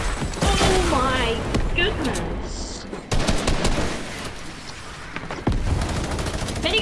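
A video-game minigun fires in long, rapid bursts, loud and close, broken by short pauses and mixed with explosions and voices from the game.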